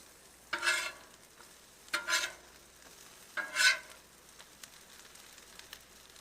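Cheesy jalapeño corn fritters are flipped on a Camp Chef GridIron griddle, three distinct bursts of sizzling as each lands, with quiet crackle in between.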